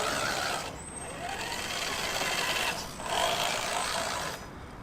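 An HPI Venture Wayfinder RC rock crawler grinds over rocks, its motor whirring in a noisy, broadband buzz that swells and dips across several surges, with a clicking drivetrain close by.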